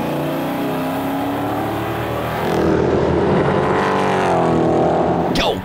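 A EuroNASCAR race car at Vallelunga launching onto a lap, its loud engine droning steadily and then revving higher as it pulls away, with a sharp rising whine at the very end.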